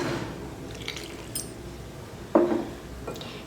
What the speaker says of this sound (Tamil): இப்போ இந்த கேக் மிக்ஸில் இந்த பால் சேர்த்துடலாம்